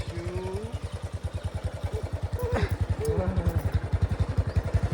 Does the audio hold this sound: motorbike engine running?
yes